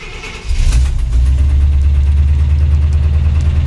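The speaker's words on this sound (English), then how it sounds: "So let me put this back in park, fire it up." A 1989 Chevrolet K5 Blazer cranks briefly and its engine catches about half a second in, then settles into a loud, steady, rumbling idle, recorded close to the truck.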